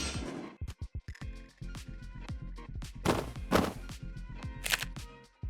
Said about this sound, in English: That is definitely an explosion sound